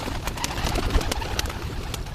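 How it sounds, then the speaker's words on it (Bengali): Pigeons coo softly and repeatedly at close range among other small animals, the low murmuring calls running over a busy background rustle. "এই যে দেখেন সাথে কবুতরও আছে।"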